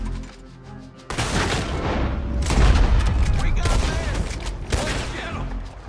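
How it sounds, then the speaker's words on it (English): Sustained gunfire shootout in Red Dead Redemption 2, loud and dense, with rapid overlapping shots and booming reports filling nearly six seconds after a quieter opening. "At least this ended in a shootout."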